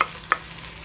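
Onion going into a pan of frying calabresa sausage, giving a steady soft sizzle with one brief louder stir-scrape partway through, close and alone.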